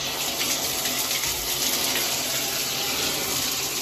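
Water runs steadily from a bathtub faucet with a bad diverter, a constant close hiss and rush of flow with no talking.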